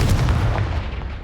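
Confringo spell blast in Hogwarts Legacy, a single heavy booming burst that rumbles low and loud, then fades quickly.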